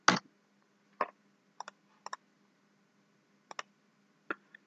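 Computer mouse clicking through a spreadsheet, about eight sharp, quiet clicks close by, several coming in quick pairs like double-clicks, separated by short pauses over a faint steady hum.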